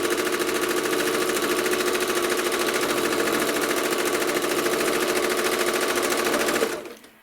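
Steady, continuous whir of a sewing machine quilting a border on a small patriotic quilt, running fast and even for several seconds before stopping abruptly near the end.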